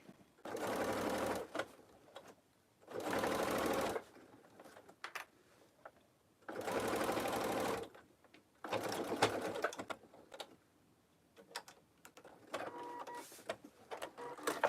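Sewing machine basting a zipper onto a tote bag, running in several short bursts of rapid needle clatter separated by quiet pauses, close and clear.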